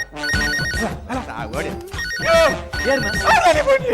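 A telephone rings in a chirping electronic pattern, repeating in bursts across the clip, loud and close, mixed with busy background music and voices.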